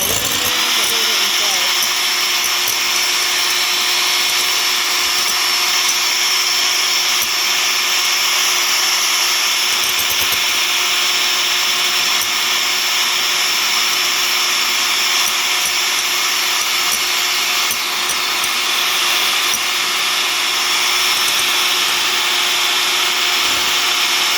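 An electric mixer whips egg whites to soft, frothy peaks in a bowl, giving a loud, steady whirring drone that runs the whole time without letup.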